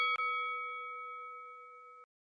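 A single bright bell ding rings out, then a clear tone lingers steadily for about two seconds before cutting off abruptly.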